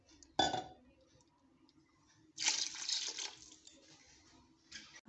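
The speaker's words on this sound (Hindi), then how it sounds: "तो मैं 4 गिलास पानी डाल रही हूँ।" Water is poured from a glass into a pressure cooker holding rice and meat, two short splashing pours with a faint clink between them, quiet and close.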